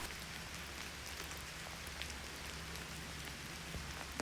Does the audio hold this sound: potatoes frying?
no